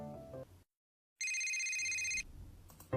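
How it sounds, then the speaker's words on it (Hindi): A mobile phone ringtone plays as a steady electronic ring lasting about a second, following a brief silence, loud and close with no talking over it. "अरे कब से फोन बज रहा,"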